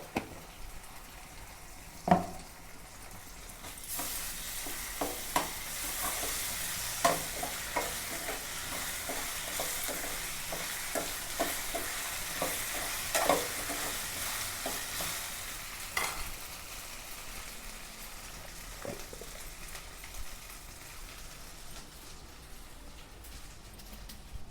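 Onions fry with ginger garlic paste in refined oil in a pan, with a steady sizzle and scraping spoon strokes as they are stirred, close and continuous.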